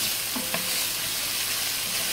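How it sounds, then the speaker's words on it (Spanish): Chopped vegetables sautéing in a pan as the base for a noodle soup with egg, a steady soft sizzle with a faint stir or two, close and continuous. "aquí sofreímos esto un rato"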